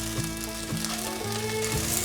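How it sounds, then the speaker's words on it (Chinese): Dried tofu stir-fried in a pan gives a steady, close sizzle, with scraping stirring strokes recurring about every half second. No one talks. "这时候要不停的翻炒，这样子豆干的颜色才会煎得均匀"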